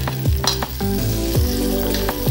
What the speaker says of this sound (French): Donc j'ai pris une poêle, un peu de beurre clarifié, parce qu'on est quand même en Bretagne, donc on va les cuire au beurre.